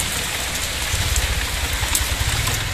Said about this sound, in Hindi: बरसात काफ़ी तेज़ है, आपको आवाज़ यहाँ पे आ रही होगी